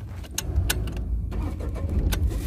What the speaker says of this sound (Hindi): तो अब मैं गाड़ी को एक बार स्टार्ट कर देता हूँ।